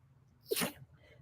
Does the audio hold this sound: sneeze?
yes